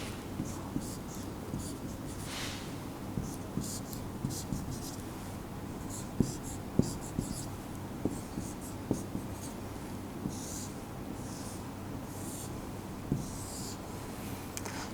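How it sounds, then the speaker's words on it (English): A ring topology diagram being drawn on a board in an IT class, long stretches of scratchy marker strokes with repeated light taps, close and unaccompanied by speech. "I will draw the diagram here."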